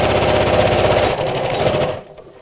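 A sewing machine runs loud and close, stitching the hem of a drawstring beach bag in a fast, even needle rhythm, slowing in pitch partway, then stopping abruptly.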